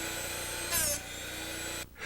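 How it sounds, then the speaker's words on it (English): A Drill Doctor bit sharpener grinds a drill bit with a steady, close mechanical whir, a brief brighter grinding surge near the middle and a short dip just before the end. "Listen carefully to the sound your drill doctor makes."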